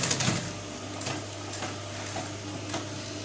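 A sewing machine stitches the side pocket of a men's trouser, a faint, quick mechanical whir with soft rhythmic ticks and a low steady motor hum in a quiet room.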